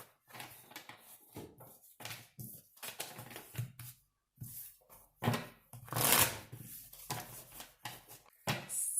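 Cards riffled and shuffled in quick bursts of soft papery flicks and slaps, close by, with brief pauses between shuffles and no talking.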